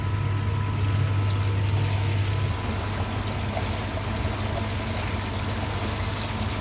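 Air pump in a koi pond filter bubbling water, a steady churning, gurgling wash with a low hum underneath, continuous and close.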